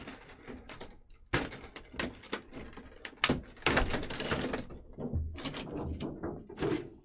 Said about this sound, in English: maybe I could cut the tape, right?